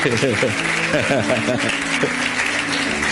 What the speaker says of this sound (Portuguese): Vamos aplaudir Jesus mais uma vez aí